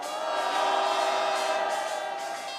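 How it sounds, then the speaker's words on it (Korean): A large outdoor rally crowd in Seoul, gathered to demand President Yoon Suk-yeol's removal, roars with sustained applause and cheering after a performance, a dense, steady wash of clapping and shouting that holds loud throughout. "여러분 다시 한번 큰 박수와 함성 부탁드립니다"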